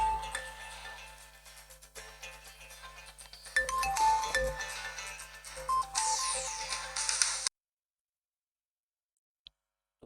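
A phone's ringtone sounds during a recorded lecture, a steady electronic ringing melody that plays for several seconds and then cuts off abruptly into silence.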